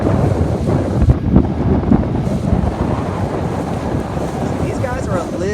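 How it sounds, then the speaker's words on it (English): Strong wind buffets a 29er sailboat out on open water, a loud continuous roar with gusty swells and splashing waves running steadily throughout. "Okay, now it's going to get windier."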